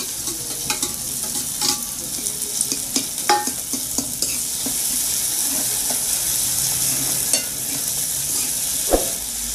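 Chopped onion and tomato fry in hot oil in a pan while making a goat head and brain curry, giving a steady sizzle with intermittent stirring scrapes and clicks, close and moderately loud.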